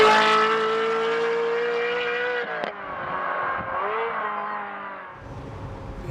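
A Ferrari 355 fitted with a Capristo exhaust accelerates hard, its loud, high-pitched engine wail climbing steadily, with a sharp gear change partway through before it settles into a lower, quieter drone.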